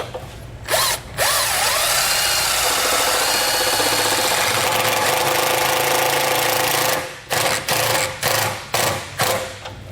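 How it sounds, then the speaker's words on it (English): A power driver with an 8mm socket drives a self-tapping screw into a vehicle frame while fitting a towed-vehicle wiring kit, first a short whir, then a long loud whine, then several quick bursts close up. "we'll use an 8mm socket to thread it"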